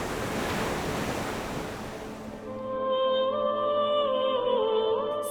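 Ocean waves wash onto the shore at Kanyakumari with a broad rushing surge mixed with wind noise, fairly close. Steady tonal sounds take over halfway through.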